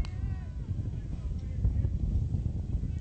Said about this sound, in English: Wind picking up here in East Cobb, Georgia.